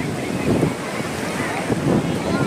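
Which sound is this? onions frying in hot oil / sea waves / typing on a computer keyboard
sea waves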